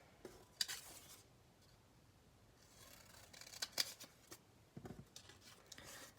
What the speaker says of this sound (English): So let's try and cut these pieces up again